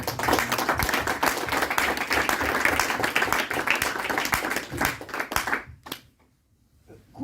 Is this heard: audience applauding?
yes